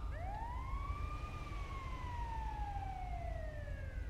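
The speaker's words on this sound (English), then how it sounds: "There's an ambulance there." Ambulance siren in GTA V, a loud wailing tone that sweeps up and then slowly falls across the whole stretch, with steady low traffic rumble underneath and no talking.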